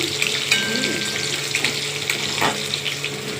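Potatoes fry in a wok with nigella seeds, giving a loud, close, continuous crackling sizzle with light stirring scrapes and no talk.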